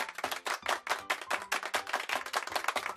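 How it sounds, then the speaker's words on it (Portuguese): Hands clapping in a quick run of sharp, closely spaced claps, loud and close, with no talk over it. "Se você falou aplausos ou pessoas batendo palmas, acertou!"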